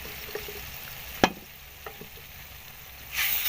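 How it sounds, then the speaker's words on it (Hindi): Carrot halwa mixed with roasted gram flour being stirred and roasted in a pan: a soft steady sizzle with a sharp spoon scrape, a few lighter clinks, and a brief louder rustle near the end. "इनको अच्छे से दोनों को मिक्स कर लेना है और मज़ीद हमने इसकी सिर्फ 2 मिनट भुनाई करनी है"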